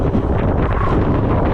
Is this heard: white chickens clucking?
no